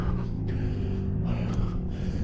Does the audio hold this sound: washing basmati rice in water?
no